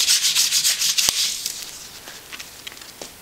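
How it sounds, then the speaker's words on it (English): A knife trims a piece of salmon being prepared for curing, a close scraping, rubbing slice that is loudest at first and then fades into quieter soft cuts and light taps. "I think this piece of fish is just a little too big, and I want it to fit better. Just gonna trim it a little bit."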